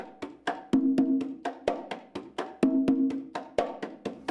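Hand-played conga drum laying down a tumbao rhythm, a steady loop of crisp slaps and ringing open tones with muted touches between, close and clear with no voices.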